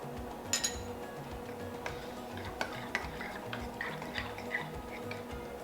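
A quiche mixture of eggs and cream is stirred in a bowl with shredded gruyere, cheddar and pesto, soft scraping and light clinks of a utensil against the bowl, close and continuous.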